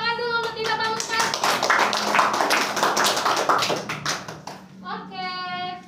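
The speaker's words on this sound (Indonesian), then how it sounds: "Tepuk tangan dulu untuk Tita Pamungkas." Classroom applause for a student named Tita Pamungkas during a group mini-research presentation: a dense burst of many hands clapping for several seconds, with children's voices chiming in at the start and end.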